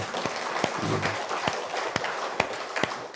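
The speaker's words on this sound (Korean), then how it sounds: "우리 박수 한번 쳐줍시다" Church congregation clapping together after a sermon remark, a steady patter of many hands heard from a distance with sharper individual claps standing out, moderately quiet.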